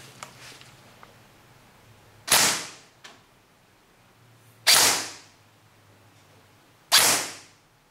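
A Tokyo Marui M4 airsoft rifle firing single shots during a muzzle velocity test, three sharp, loud cracks spaced a couple of seconds apart with short decays and quiet pauses in between.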